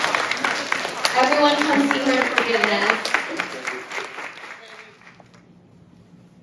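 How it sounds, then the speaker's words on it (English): Audience applause for Peggy after a theater rehearsal talk, moderate clapping running under an overlapping voice and tapering off into near silence by the end. "we're going to give a big round of applause to Peggy"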